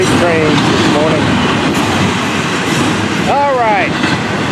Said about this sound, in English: Waiting for a chance to escape these new freight trains this morning.